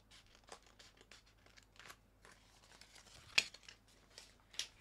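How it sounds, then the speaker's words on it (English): Scissors make a series of faint, close snips and crinkles through a sheet of craft vinyl, with a couple of sharper cuts near the end in a quiet room. "I'm actually going to cut this here."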